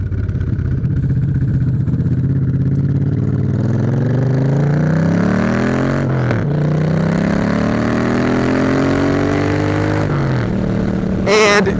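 A 1995 Suzuki Intruder VS1400 cruiser motorcycle with rejetted carburetors and aftermarket pipes runs close by, a loud, steady, deep rumble that swells with a few revs and drops back to idle.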